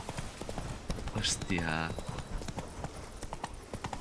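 Horse hooves clip-clop in a steady, rapid rhythm throughout a video game scene, with a short whinny partway through and a man exclaiming over the top.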